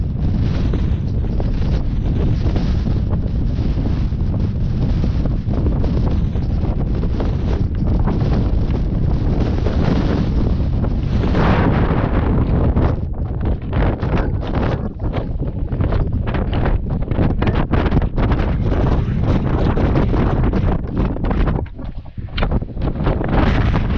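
Strong wind buffeting a mountain summit above Llanfairfechan: loud, continuous roaring gusts battering the microphone for the whole stretch, with rumbling low-end surges and no voices.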